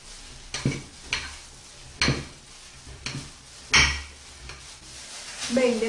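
Chocolate being chopped into small shavings, a series of separate sharp knife strikes against a board roughly once a second, close and fairly loud, with no talk.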